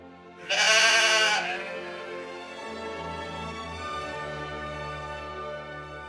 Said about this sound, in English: The goat says ma ma.